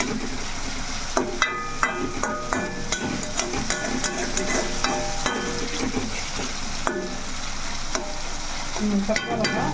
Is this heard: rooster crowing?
no